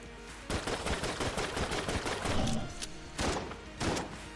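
The Eye of the Beholster firing in Enter the Gungeon: a rapid stream of loud, punchy shots in quick succession, with a couple of brief pauses and then more bursts, heard alone.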